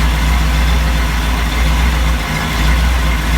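An engine running on a test stand, a loud, steady low rumble with an even idle and no talking.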